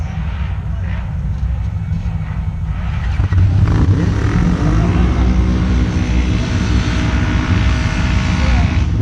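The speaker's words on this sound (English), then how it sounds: "I hear Henry over there in the background practicing." A loud race car engine drones and revs in the distance during practice, rising in pitch partway through, with a constant rumble underneath.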